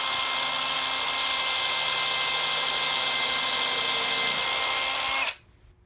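Close, loud whine of a DeWalt power drill boring a hole in a wooden picture frame, running steadily for several seconds before cutting off abruptly into quiet.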